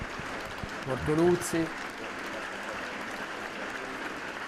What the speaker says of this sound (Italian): Ecco il lungo applauso dei presenti